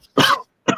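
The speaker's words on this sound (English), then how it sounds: "coughing fit" A man's harsh cough followed by a shorter second hack, close and loud, two bursts with a short pause between them and no talking.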